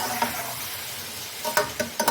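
Chicken pieces frying for Punjabi biryani, a steady low sizzle with a few sharper scraping stir strokes near the end, close and moderately quiet, no voices.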